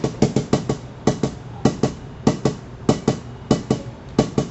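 A single drum struck with a backsticking motion, one hand of a double stroke roll removed, giving uneven pairs and clusters of sharp, close hits in a loose repeating rhythm, played alone.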